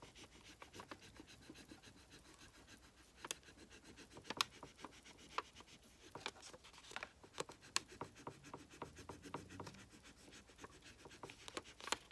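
A decor transfer rubbed down by hand while its plastic backing is peeled away, giving quiet, close, rapid scratchy rubbing strokes in an uneven rhythm with a few sharper ticks, with no talking.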